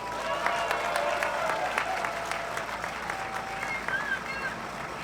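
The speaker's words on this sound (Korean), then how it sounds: "우리 위대한 대구 시민을 위해가 서로 박수 한번 칩시다." An outdoor crowd at a political speech in a Daegu city square claps together, a burst of sharp, scattered hand claps that swells and then thins out over several seconds, with some voices audible.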